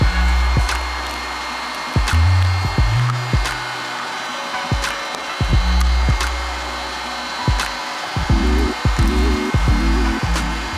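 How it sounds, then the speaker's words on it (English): A heat gun blows steadily while softening glue on a garment's back tab and wings, a continuous airy roar with scattered small clicks and taps throughout. "First thing I do is heat up the glue to loosen it up"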